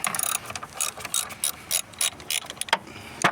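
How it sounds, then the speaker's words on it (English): A ratchet wrench with a 10 mm socket loosens the negative battery cable on a 2015 Hyundai Sonata. Quick bursts of sharp, close clicking come in short repeated strokes separated by brief pauses. "You want to go to the battery and disconnect the negative cable."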